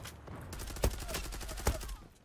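Rapid automatic gunfire from the online shooter game Zula rattles continuously, with two louder shots standing out among the steady burst of shots.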